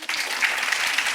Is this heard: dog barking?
no